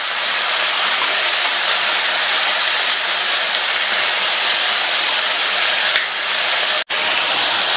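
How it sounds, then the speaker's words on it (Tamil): Brinjal pieces with turmeric powder sautéing in a pan on high flame, giving a loud, steady sizzling hiss heard up close with no talking. "ஹை ஃப்ளேம்லயே வச்சு ஒரு 2 நிமிஷத்துக்கு இந்த கத்திரிக்காயை வதக்கிக்கங்க."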